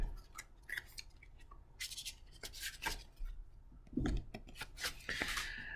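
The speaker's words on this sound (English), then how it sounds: "shuffle from the chakra deck" A chakra card deck being shuffled up close, with soft scattered rubs, brushing slides and light card taps in irregular bursts, quiet and without talking.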